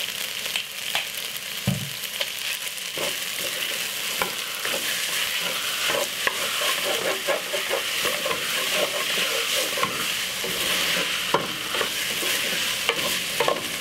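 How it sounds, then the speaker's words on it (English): Jerk spaghetti and mixed vegetables stir-fried in a pan, giving a steady close sizzle with scraping stirs and occasional clanks from the utensil, with no talking. "all you need to do is just simple stir fry it off"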